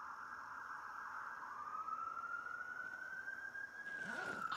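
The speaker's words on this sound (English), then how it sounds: "Why do I hear sirens?" Wailing emergency siren from the video game Project Zomboid (Build 41, modded), a steady rising tone that sweeps in pitch and holds at moderate distance over low background hiss, then shifts near the end.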